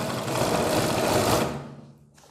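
A sewing machine stitches along a kurti collar in a steady, close, buzzing run that stops abruptly about two-thirds of the way through, leaving near silence, with no talking over it.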